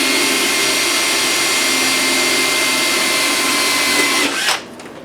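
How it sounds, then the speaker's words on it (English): A power drill bores through material with a steady, loud whine for about four and a half seconds, then cuts off abruptly, leaving quiet room noise. "I'm going to try to drill through here without knocking out big chunks"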